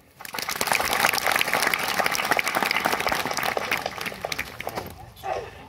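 An audience at a magazine launch ceremony breaks into sustained applause, dense clapping that swells quickly and holds steady for several seconds before thinning out near the end.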